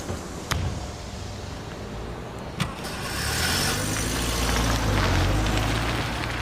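A car engine starts and runs, a sharp click or two early on, then a steady engine drone rising at about three seconds and holding loud to the end, with no talk.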